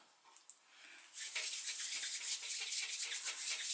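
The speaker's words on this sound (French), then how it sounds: "Et je vais l'étaler à la machine à pâte le plus finement possible." Pink polymer clay being rolled thin through a hand-cranked pasta machine, a steady soft rasping hiss that starts faintly and grows louder and continuous as the sheet feeds through, heard alone and close.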